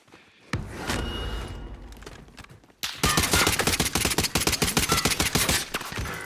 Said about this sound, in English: There's one long with a DMR shooting.